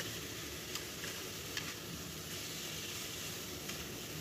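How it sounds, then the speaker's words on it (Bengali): Spice paste fries in oil for a Bengali koi fish curry, a steady close sizzle with a few light clicks of stirring, no one speaking. "মশলাটা আমি ভালো করে কষিয়ে নিচ্ছি।"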